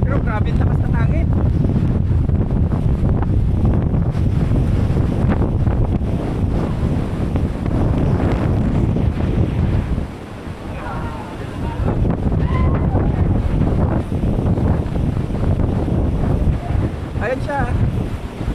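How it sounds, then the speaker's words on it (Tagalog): Strong coastal wind buffets the microphone in steady, heavy gusts along the shore at Ilocos, with surf faintly underneath and brief lulls. People talk occasionally. "Pero grabe ang lakas ng hangin."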